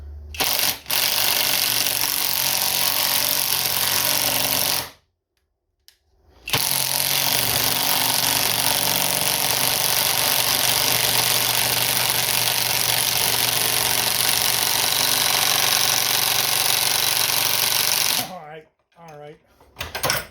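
An impact wrench with a 3/4 wobble socket on a 1/2 to 3/8 adapter hammers in long loud bursts, loosening and then tightening a bolt, broken by a short pause.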